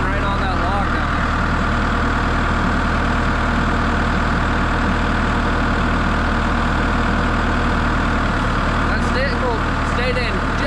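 A telehandler's diesel engine runs steadily while moving yellow cedar sawlogs, a constant low idle-like rumble with faint clanks near the end.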